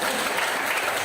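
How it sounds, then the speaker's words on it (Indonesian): A classroom of students claps together, a brief, dense burst of steady applause close to the listener. "Tepuk tangan dulu."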